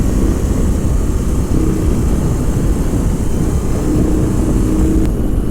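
A BMW R18 cruiser motorcycle rumbles steadily while being ridden, with a loud, constant low engine drone blended with wind rush and no break or change in pace.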